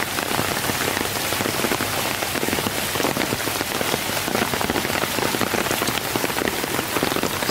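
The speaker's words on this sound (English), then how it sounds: "now it's Sunday afternoon and it just started raining bad" Heavy rain from Hurricane Florence pours down in the Carolinas on a Sunday afternoon: a dense, unbroken hiss of drops hitting surfaces, steady throughout with no voices.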